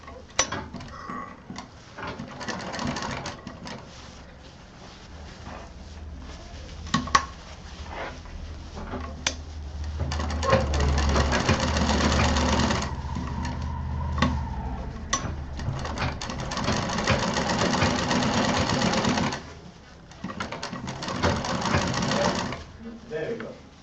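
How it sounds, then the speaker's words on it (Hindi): Sewing machine stitching fabric for a baby doll bag, running in long steady whirring bursts separated by brief pauses, close and fairly loud, while someone talks over it. "अब सिलना शुरू करेंगे। सेंटर से ही सिलना शुरू करेंगे"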